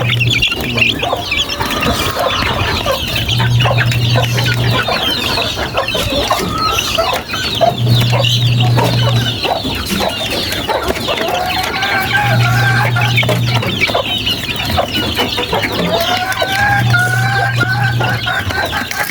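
Chickens clucking steadily and close, with continuous peeping from hungry chicks mixed in, forming a busy, unbroken poultry chorus.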